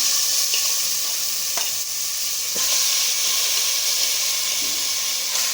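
Chicken for pepper chicken fry sizzles loudly in hot oil with turmeric, a dense, close, steady hiss with a few faint scraping touches and no talk.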